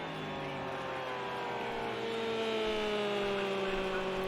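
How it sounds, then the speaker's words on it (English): Ferrari race car engine screaming through its exhaust at high revs in Project Cars 2, a GT endurance race at Silverstone, with a steady sustained whine whose pitch shifts slowly as the car holds speed. "What is that noise coming from the Ferrari? Absolutely a quintessential Ferrari sound now,"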